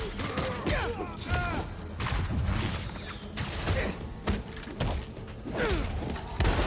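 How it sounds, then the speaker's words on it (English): Machine gun fire rattles through a Marvel's Spider-Man 2 fight, dense bursts mixed with thuds and impacts over busy game sound and voices. "Like a freaking machine gun?"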